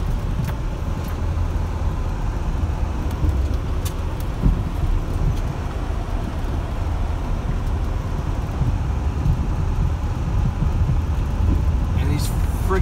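A car drives over a frozen, potholed road, giving a constant low rumble of tires and engine with occasional knocks and bumps, heard from inside the vehicle under a person talking.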